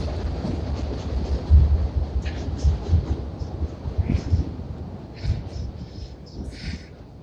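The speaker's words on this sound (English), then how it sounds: "Another train coming by." A train rumbles by at a distance, a low continuous rolling noise with faint rattles, heard outdoors with no clear talking.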